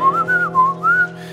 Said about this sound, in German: Pfeifen, das kann ja auch nicht jeder.